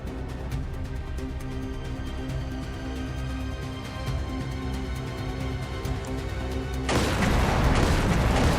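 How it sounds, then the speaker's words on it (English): Muffled gunfire and booms rumble steadily in the video game Trails Through Daybreak 2, building into a louder, harsher burst of noise near the end. "Confirming source of gunfire."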